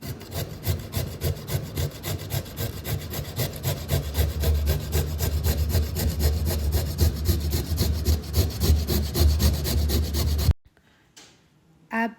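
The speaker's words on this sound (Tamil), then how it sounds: "இப்போது கேரட்டை கிரேட் பண்ண மாதிரியே பீட்ரூட்டையும் கிரேட் பண்ணி எடுத்துக்கலாம்." Beetroot is rubbed hard against a kitchen grater in fast, rhythmic rasping strokes that go on loudly and close for about ten seconds, then stop abruptly, followed by near silence and a brief faint sound.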